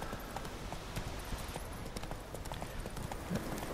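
Horse hooves clip-clop steadily in The Witcher 3 as the mount trots along, with sharp, regular strikes close up and fairly loud that continue throughout, and a faint low thump near the end.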